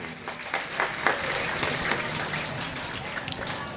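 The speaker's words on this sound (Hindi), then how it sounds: "जोरदार की तालियां हमारे इन संतों के लिए" Applause for the saints at a Shri Ram Katha gathering, a soft steady patter of many hands heard from a distance, continuous and fairly quiet throughout.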